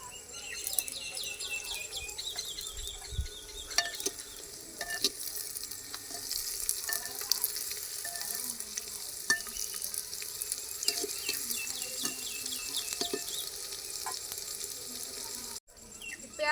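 Onions and tomatoes frying for handi chicken, a faint steady sizzle with scattered scraping and stirring clinks, fairly quiet and close, no talk.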